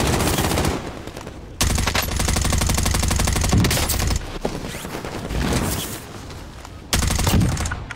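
Video game gunfire crackles in loud, rapid automatic bursts, several long sprays separated by short gaps, close and dominant with no talk over it.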